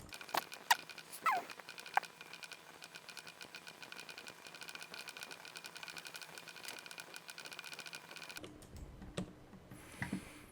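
Rapid close clicking of computer keyboard keys during Blender modelling runs steadily for most of the stretch, then stops into quieter scattered taps and clicks.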